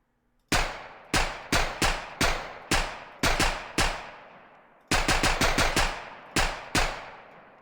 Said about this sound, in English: Muzzle flash, our gunshot sound is the gunshot sound effect.